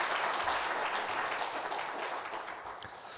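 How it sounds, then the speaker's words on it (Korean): A congregation claps steadily during a Korean Sunday church service, a dense, even wash of applause heard from a distance, slowly tapering toward the end with no voices over it. "크게 박수 주시기 바랍니다"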